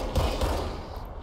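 Gunfire in the video game Control: two quick, muffled bursts of shots close together over a dense low rumble, fading into a quieter tail.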